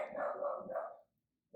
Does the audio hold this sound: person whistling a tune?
no